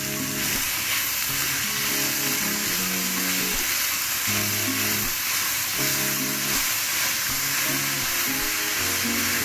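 Onion and spinach sizzle loudly in a frying pan for huevos rancheros, a dense continuous hiss close up with a low background hum and no talking.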